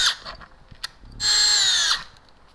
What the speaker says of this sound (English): We're going to drill a pilot hole first and then put the screws in. We're using a 1/8 inch bit.